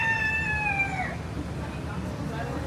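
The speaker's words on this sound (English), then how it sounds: "I think that lady was carrying a rooster and it just crowed" A rooster crows once, close and clear for about a second, inside a busy indoor attraction with a steady murmur of crowd noise behind it.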